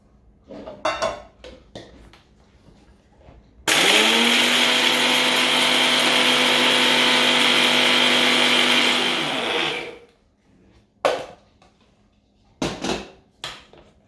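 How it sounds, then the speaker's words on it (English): An electric grinder whirs loudly and steadily for about six seconds, grinding whole spices for lamb korma, framed by clinks and knocks of kitchen utensils before and after. "I'm going to put it into our grinder."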